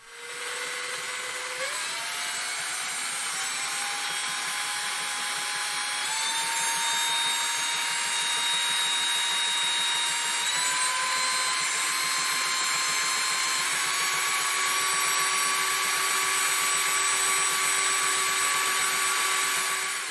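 An electric drill spins a hand-wound coil generator, giving a loud, continuous whine for about twenty seconds. Its pitch climbs in several distinct steps as the speed rises, with no talking.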